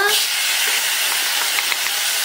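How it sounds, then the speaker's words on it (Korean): Potatoes hit a hot pan with leeks and set off a loud, continuous hissing sauté close by, with a few soft stirring knocks toward the end. "자, 이렇게 해서 볶은 후에 이제 감자 들어갑니다."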